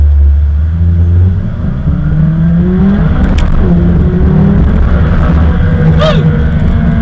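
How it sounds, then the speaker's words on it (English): A 2018 McLaren 570S accelerates hard and loud, its engine note climbing and dropping as the 7-speed transmission downshifts, with steady road and wind roar throughout. "you can really hear that 7-speed transmission downshifting"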